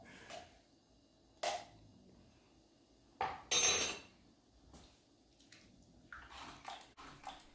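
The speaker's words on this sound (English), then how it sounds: "I'm going to add in about half this can of the sweet corn" Canned sweet corn dropped into a pot of beef brisket chili, giving a few separate wet plops and splashes with quiet gaps between and some soft stirring clatter toward the end.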